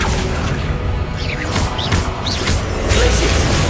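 A spell cast in the fantasy action game Hogwarts Legacy produces a whooshing magical swish with rising sweeps and a mechanical clatter, set against a busy, continuous game backdrop.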